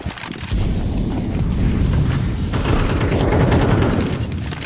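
Gunfire in a competitive Counter-Strike-style video game match, rapid bursts of automatic shots and booming blasts that come in dense, loud volleys, briefly quieter at the start before a sustained barrage.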